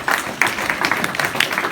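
Applause from a seated audience at a live talk, a short steady patter of many hands clapping, moderately loud and close.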